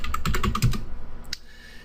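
Keys clatter in a quick burst of typing on a computer keyboard in Kali Linux, close and distinct for just over a second before a single faint click and quiet.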